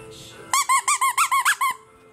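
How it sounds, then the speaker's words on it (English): A squeaky dog toy bone squeals in a quick run of about eight close, loud, evenly spaced squeaks lasting just over a second, with quiet room noise before and after. "If I get your squeaky bone."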